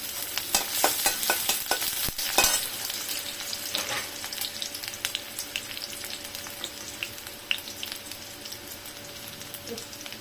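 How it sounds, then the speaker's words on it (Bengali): Chopped onions frying in oil in a kadai, giving a loud, continuous close sizzle with dense crackles and pops that ease slightly toward the end. "দিয়ে দিলাম পেঁয়াজ কুচি"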